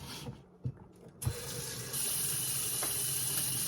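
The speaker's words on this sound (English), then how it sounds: "let's fill this full of water." Water pouring into a $33.99 mini washing machine from Temu, starting with a few faint knocks and then becoming a steady, loud rushing stream that continues to the end without any talking.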